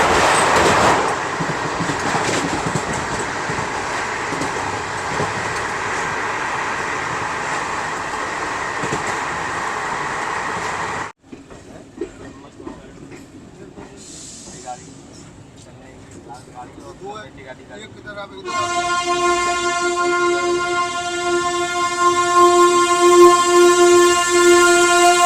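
Garib Rath Express rolling on rails near Agra Cantt railway station: steady loud rumble of wheels and carriages, then a quieter stretch, then a long sustained horn blast that runs to the end.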